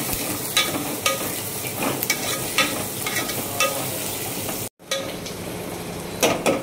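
Mutton gravy with onions frying in a pan crackles with a loud, dense sizzle while a utensil stirs in repeated scraping strokes, broken by a brief gap before the stirring resumes.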